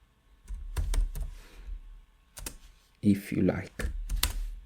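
Keys tapped on a computer keyboard in a few short bursts of clicks, close and clear, with someone talking between and over them.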